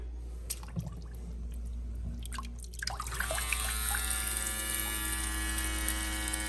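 A waterproof electric shaver sprays water: a wet, sputtering hiss over a steady electric motor hum, with small splashing clicks early before the buzzing settles in.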